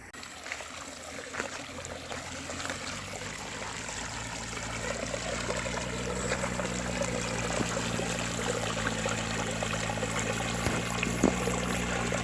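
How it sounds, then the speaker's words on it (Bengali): Rainwater running off fields and flowing along a drain toward a river in the Dooars near Chilapata, a continuous soft trickling stream under a low outdoor rumble, moderately faint and steady. "জলের আওয়াজ, জমির থেকে জলগুলো পড়ছে,"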